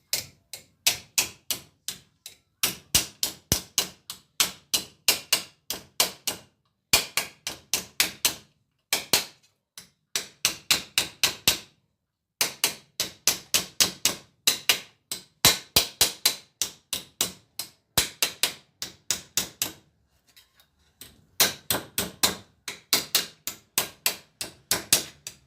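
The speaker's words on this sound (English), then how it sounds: "this bit I'm just going to hammer over" Rapid bursts of sharp metallic hammer blows folding over the edge of a sheet metal wing panel during repair, struck in quick clusters with short pauses between, close and loud.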